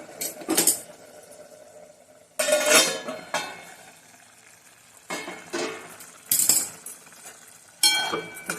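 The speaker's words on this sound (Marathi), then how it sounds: "त्या भाजीला आपण झाकण काढूया" A metal lid is lifted off a cooking pot of simmering kantoli wild vegetable, giving sharp clinks and clatters in several separate bursts against a quiet background.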